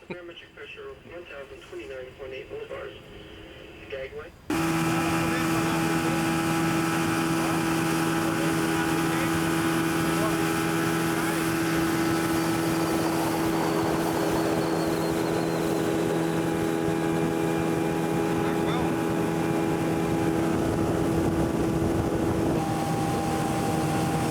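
After a few seconds of quieter background, a motorboat engine starts up in Alaska and drones on loud and steady, with a constant hum.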